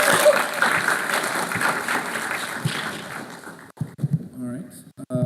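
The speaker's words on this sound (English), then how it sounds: "Give them a round of applause." Applause for players at a Latin certamen competition final, a dense round of clapping that fades out after about three seconds, followed by someone speaking alone.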